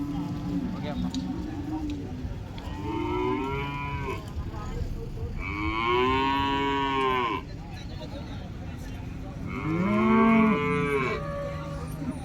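Cattle and calves at the Kuzhalmannam livestock market give three long, drawn-out moos, each several seconds apart. Between them there is a constant murmur of market background with faint voices.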